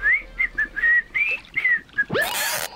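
A person whistling beside water while fishing, a series of short bright rising and falling whistled notes, close and clear, ending with a sharp sweeping whoosh.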